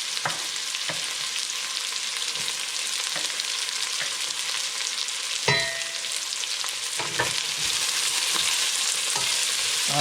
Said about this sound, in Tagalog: So, gisa na natin.